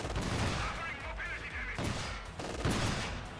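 Battle gunfire in Company of Heroes 2, a dense wash of shots with a few heavier booms punctuating it, steady and loud over the short stretch, with voices faintly beneath.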